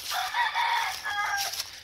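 A rooster crows nearby with hens in a pen, one loud, drawn-out cock-a-doodle-doo in two phrases, with no voices.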